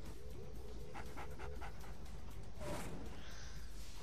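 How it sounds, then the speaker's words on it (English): Attack dogs in the Mental Omega video game pant in quick rhythmic bursts, faint against a steady background hiss, with a brief whoosh near the end and no talking. "I should train my dogs better to attack your dogs."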